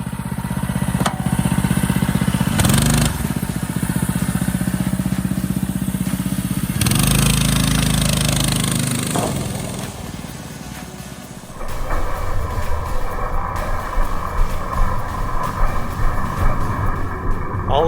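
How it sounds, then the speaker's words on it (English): A Mega Moto Max 212 mini-bike engine running loud and close, droning steadily with shifts in pitch as it revs and settles, then changing tone and idling more roughly toward the end. "the mini bike is running great and back on the trails"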